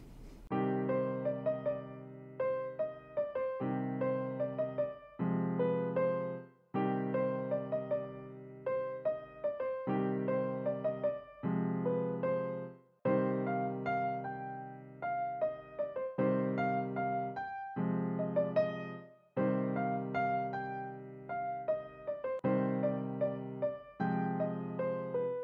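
Solo piano plays an instrumental passage from a Tamil film song from NGK, with steady chords and melody in clear repeated phrases, close and alone for about twenty-five seconds with no talk.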